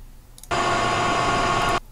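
A sudden burst of flat, noisy mechanical hum from a machinery lift mover in Unreal Tournament 2004 starts, holds steady for just over a second, then cuts off abruptly.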